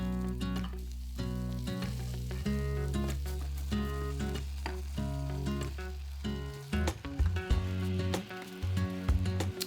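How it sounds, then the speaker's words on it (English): Beef frying with garlic and ginger in a hot Itaki Shabuki pot, a steady dense sizzle running close and loud under a low hum, with clinks and stirring near the end. "Then add in the beef and cook for about another minute or 2."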